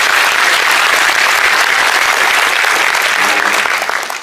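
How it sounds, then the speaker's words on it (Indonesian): An audience applauds an ambassador at a community gathering in Jordan, with dense, steady clapping that stays loud throughout and thins slightly near the end. "Beri tepuk tangan untuk Pak Dubes."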